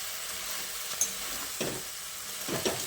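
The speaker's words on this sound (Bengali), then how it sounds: "এবার আরও একবার ভালো করে নেড়ে চেড়ে মিশিয়ে নিতে হবে" Steady sizzling from a hot pan with a few scraping stirs of a utensil through wet Malabar spinach greens.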